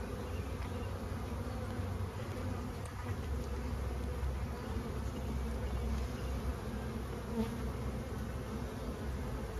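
Honeybees swarm around an open beehive full of brood, making a dense, continuous buzz close by. The drone stays steady throughout, with no talking.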